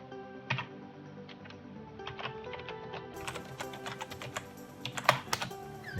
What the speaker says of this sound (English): I'm actually quite a fast typer, but obviously not on this.